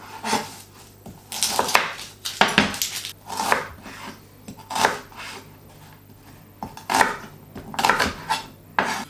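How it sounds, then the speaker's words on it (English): Red onions are peeled and finely chopped with a knife, giving clusters of crisp, uneven cuts that come in short bursts with brief pauses between them, close and clear with no talking. "I want to peel and finely chop the red onions."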